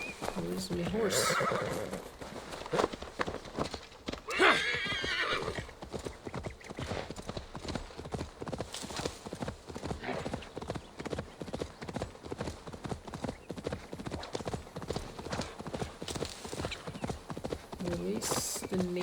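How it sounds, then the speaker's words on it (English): In Assassin's Creed Valhalla, a horse neighs early on, followed by a long run of steady, rhythmic galloping hooves, with a voice talking over them. "Where's my horse?"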